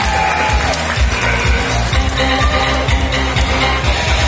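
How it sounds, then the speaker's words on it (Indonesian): Audience applause at a circus show in an Indonesian safari park, a dense, steady wash of clapping from a crowd that carries loud and unbroken throughout. "terima kasih atas tepuk tangan dari Anda"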